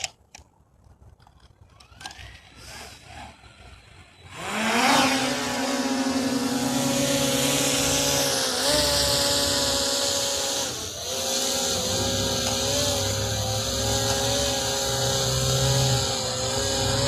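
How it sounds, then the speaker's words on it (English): A DJI Mini 5 Pro drone spins up and lifts off after sunset, its motors rising quickly into a loud, steady whine with layered harmonic tones that holds through the hover. "let's get the drone in the air and let's see how it does"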